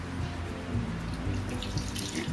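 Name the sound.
water being added to chhena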